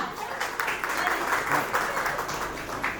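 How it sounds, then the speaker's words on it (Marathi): Guests at a baby's cradle ceremony clap for the father's side, a continuous crowd applause that rises and dips slightly, with voices faintly mixed in. "चला बाबा टीम साठी एकदा जोरदार टाळ्या"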